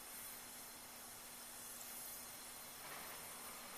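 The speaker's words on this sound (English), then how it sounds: "A nice boil happening." A pot of IPA beer wort with hops keeps a steady rolling boil, a constant close hiss and bubbling roar with no pauses.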